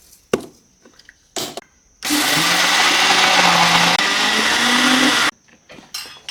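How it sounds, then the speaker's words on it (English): A spice grinder pulses a dry millet mixture for dairy-free horchata into powder, one loud continuous whirring burst of about three seconds, close up, with brief clicks and handling noises before and after and no talking. "I've transferred my mixture into a spice grinder. We are going to pulse it until it's powdery."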